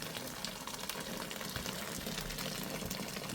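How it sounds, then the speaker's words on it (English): Hot water pours steadily into a cooking pot for homemade carrot beef jollof rice, a constant close rushing splash with no talking. "if I'm now adding hot water"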